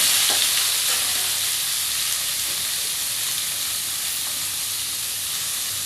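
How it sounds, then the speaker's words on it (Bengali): Boiled jackfruit, cut and seasoned with salt and turmeric, is lightly fried and stirred in a pan, giving a constant loud sizzling hiss with faint scraping stirs throughout. "একটু হালকা ভেজে নেব।"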